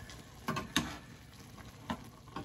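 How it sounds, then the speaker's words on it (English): Homemade apple pie filling bubbles and sizzles in a pot on the stove, with a steady soft simmer broken by a few louder pops and stirring bursts, close and without talk. "when I boil this, it looks a lot like maple syrup boiling"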